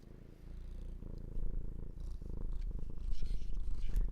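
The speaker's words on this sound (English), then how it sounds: "Can you hear him purring?" A cat purring up close, a low continuous rhythmic rumble that grows steadily louder, with no speech.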